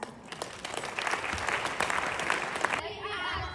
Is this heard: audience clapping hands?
yes